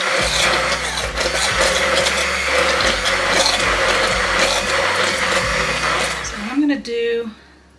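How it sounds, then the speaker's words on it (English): A blender purees strawberry coulis, grinding loudly and roughly close up for several seconds, its motor pitch shifting with the load, before it winds down and stops. "I have a strawberry coulis that I need to pulse and puree."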